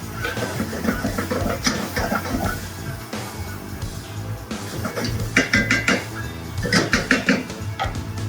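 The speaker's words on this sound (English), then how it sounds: "All right, we're gonna stir it up" Bacon rice with spices being stirred in a pan gives scraping, clattering utensil strokes over a steady sizzle, with bursts of quick metallic scrapes in the latter half.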